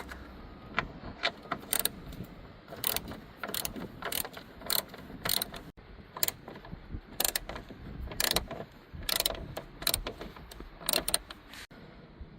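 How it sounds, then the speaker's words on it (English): A ratchet turns a deep 11mm socket on Ford Mustang tail light nuts, producing close, quiet bursts of rapid clicking separated by short pauses, over faint background noise. "Now to remove this, you will need a deep 11mm socket or a wrench key."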